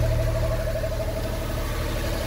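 An overhauled Suzuki Multicab K6A engine runs at a steady idle, a close, even low rumble with a constant hum and no voices.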